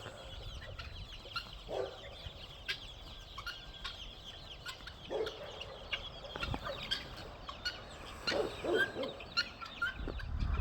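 Birds in a yard cluck and call intermittently while a hawk is nearby, scattered squawks and chirps over a faint outdoor background.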